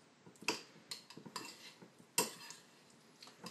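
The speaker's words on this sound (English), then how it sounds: "Now we use a spoon to mix it all together. And the spoon can also crush." A spoon mixes and crushes not-quite-ripe avocado with kefir in a bowl, giving quiet irregular clinks and scrapes against the dish, with a few sharper taps standing out.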